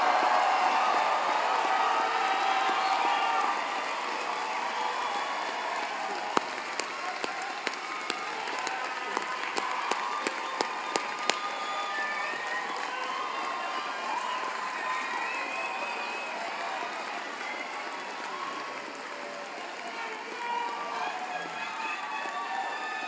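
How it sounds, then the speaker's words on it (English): Commencement audience at a University of Minnesota College of Pharmacy graduation, standing to applaud and cheer; sustained crowd clapping and cheering with a few sharp close claps, steady and moderately loud throughout. "please rise so that you can applaud"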